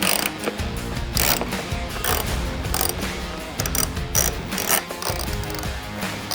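Ratchet wrench clicking steadily as it loosens the inner fairing bolts on a Harley-Davidson Street Glide motorcycle, a dense, continuous mechanical ratcheting heard close up with no talking.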